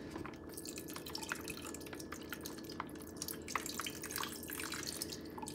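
Water trickles and drips steadily onto pork cooking in a pan while an American-style dinner is prepared, a faint, continuous liquid splashing with small irregular drops and no talking.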